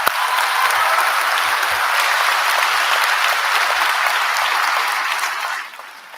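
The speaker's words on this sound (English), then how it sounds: "So give them a big round of applause." Enthusiastic applause from a crowd at a graduation ceremony fills the room steadily for several seconds, then tapers off at the end.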